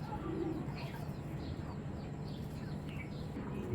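A pair of gangchil pigeons coo softly on and off through a steady background hum, with light chirps scattered through the clip.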